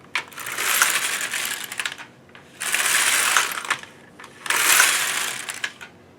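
A Kris Krafter Needle Beetle knitting machine carriage runs across three rows, giving three loud bursts of mechanical rattle and clatter, each about one and a half seconds long, separated by short pauses, with no voices.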